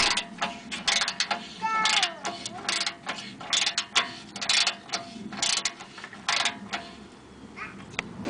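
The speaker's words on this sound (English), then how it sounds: "you just snug them up with your 13mm ratchet and on the frame here" Close, quick bursts of ratchet clicking as a 13mm ratchet snugs up fuel filter bolts on the frame of a 2005 Ford Explorer 4.0, repeated strokes with brief pauses between them.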